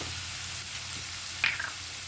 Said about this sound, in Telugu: మనం ఉప్పు, పసుపు వేసేసుకున్న ఉల్లిపాయ తొందరగా మగ్గుతుంది